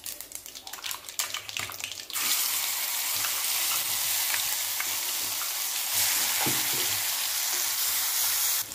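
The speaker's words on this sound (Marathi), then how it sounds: "ग्रेव्ही थोडीशी भाजून घेऊया" Curry leaves and ground masala paste hit hot oil with cumin and mustard seeds for a ridge gourd bhaji: gentle stirring at first, then a sudden loud, sustained sizzle that holds steady to the end.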